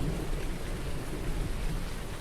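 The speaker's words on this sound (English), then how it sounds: "Oh, a little bit of an evening thunderstorm. I don't know if you heard that thunder in the background there," An evening thunderstorm in Farming Simulator 19, with steady dense rain and a low rumble of thunder rolling under it, continuous and fairly loud with no talking.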